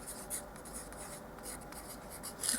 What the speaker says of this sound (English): I'm going to write this down first.